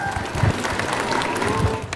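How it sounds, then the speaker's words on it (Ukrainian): A large crowd at a record-setting mass carol-singing gathering in Ternopil applauds, a dense, continuous wash of clapping, fairly loud and unbroken, with no voice standing out above it. "Бурхливіші оплески, друзі."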